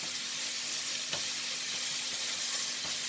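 Strips of meat for a zurna dürüm wrap sizzle steadily in a hot pan, a bright continuous frying hiss with a few soft clicks of stirring, close and without talk.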